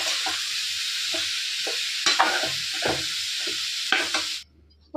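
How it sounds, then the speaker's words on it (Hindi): Cluster beans and potatoes fry in a pan with a steady close sizzle, broken by several scraping stirs of a spoon, before the sound cuts off abruptly near the end. "बस इसको अभी मैं भून लूँगी थोड़ी देर।"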